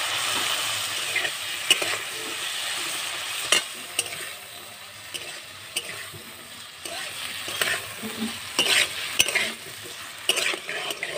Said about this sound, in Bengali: তেলটা গরম হয়ে গেছে, আলুগুলো আমি দিয়ে দিলাম।